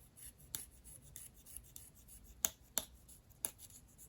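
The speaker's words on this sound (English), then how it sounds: "You can hear my knife continue to catch on this giant notch at the back." Quiet scraping and rasping of a knife on a reed, with a few sharp catches standing out as brief clicks.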